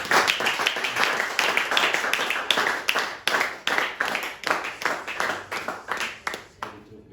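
A church congregation claps in a rapid, uneven burst of applause that stays loud and dense for several seconds, then thins toward the end.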